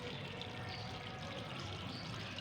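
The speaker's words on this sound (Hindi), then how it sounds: "पानी दे लेते हैं।" Water pours steadily from a can onto the soil of a freshly potted syngonium cutting, a continuous soft splashing trickle, close and even in level.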